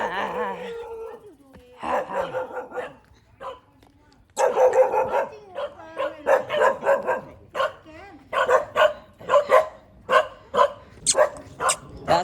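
Guard dogs at a goat farm in Indonesia bark loudly and close by, in repeated sharp bursts that quicken into a steady volley toward the end.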